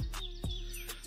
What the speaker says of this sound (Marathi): एकदम शांतपणे ऐकलं तर पक्ष्यांचा आवाज ऐकू शकता तुम्ही